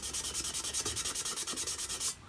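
A blackened pot being scrubbed hard with a scouring pad, heard as a fast, steady run of close, rasping back-and-forth strokes that stop abruptly near the end.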